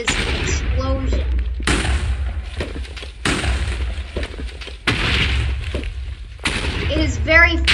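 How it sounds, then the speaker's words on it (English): Hand grenades explode in Minecraft with loud, booming blasts that arrive about every second and a half, five in a row, with someone talking between and over them. "whenever you throw a hand grenade, there is an explosion"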